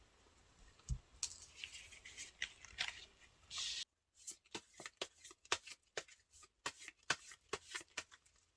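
Tarot cards shuffled and drawn by hand, with soft papery riffles and slides at first, then a rapid series of crisp card snaps and flicks, close and quiet with no talking.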